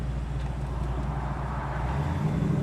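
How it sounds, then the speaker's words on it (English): A 1969 Chevrolet Camaro's carbureted engine idles steadily with a low, even rumble throughout, close by and unbroken. "and we'll see how it idles"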